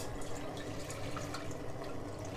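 Water pours steadily into a sauce pot, a continuous close splashing rush with no pauses.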